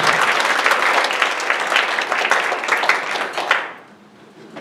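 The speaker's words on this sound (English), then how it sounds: "can you clap your hands one more time before you're seated?" A church congregation claps hands together in a full, lively burst lasting a few seconds, then it tapers off into near silence.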